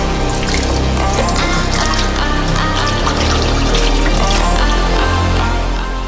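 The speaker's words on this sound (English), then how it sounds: "Wash potatoes." Loud, continuous running water splashes and gushes steadily, like a tap pouring into a sink, close by and unbroken, while potatoes are washed.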